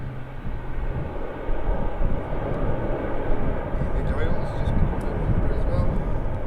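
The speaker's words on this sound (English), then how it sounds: "Wow, that was smooth. Just kissed the tarmac. That was such a good landing." Airliner rolling down the runway just after a smooth touchdown at Manchester Airport, a steady loud engine roar and cabin rumble heard from inside, with a person talking over it.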